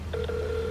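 A telephone ringback tone on an outgoing call, one steady electronic tone starting after a brief click and holding to the end, fairly quiet and alone.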